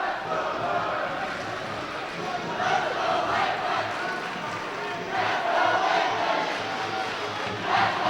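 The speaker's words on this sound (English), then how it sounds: "the crowd now getting into it" An ice hockey crowd at a regional semi-final game cheers and roars steadily throughout, a dense, sustained wash of voices swelling slightly toward the end, with no single voice standing out.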